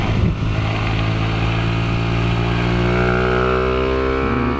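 A highly modified Kayo MR125 motorcycle on a kart track, its engine loud and close, droning steadily, then revving higher as the pitch climbs and dips with throttle changes.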